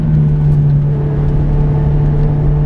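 A Ferrari F430 manual with a naturally aspirated V8 engine under throttle makes a loud, steady, close-up engine drone with a strong humming tone that holds without a break and has no talking over it.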